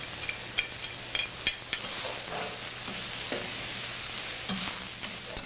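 Meat and vegetables sizzle steadily on a hot griddle, with a soft continuous hiss broken by light scraping clicks from stirring.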